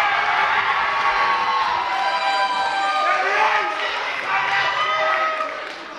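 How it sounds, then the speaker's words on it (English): An audience at a high school pageant cheers and shouts loudly and continuously, with whoops and children's voices over a dense crowd roar that fades slightly at the end. "That means everybody needs to cheer for their friends who they're here for."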